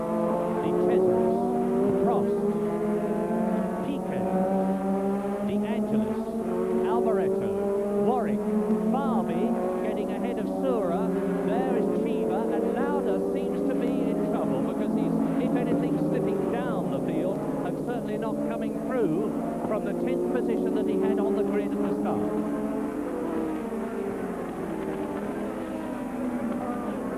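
Formula 1 race cars roar down Hangar Straight at the 1985 British Grand Prix, their engines droning and shifting pitch continuously under excited commentary throughout.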